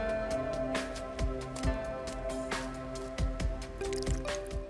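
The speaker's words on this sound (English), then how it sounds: "Put the mushrooms in fresh water and stir repeatedly, changing the water several times until every speck of dirt is gone." White mushrooms being stirred by hand in a basin of water for cleaning, with repeated soft sloshes and drips at an uneven rhythm, close up under a steady background of music.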